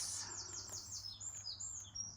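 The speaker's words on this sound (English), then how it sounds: "Can you hear that bird?" A small bird chirps repeatedly in quick high tweets, fairly faint and distant, against a quiet background.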